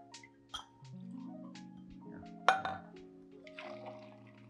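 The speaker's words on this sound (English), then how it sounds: "We're gonna be putting 2 ounces of our green chartreuse in there." Green chartreuse, two ounces, is poured into a heated glass, producing soft liquid trickling and a few light clinks of glass, fairly quiet and close, with brief talking in between.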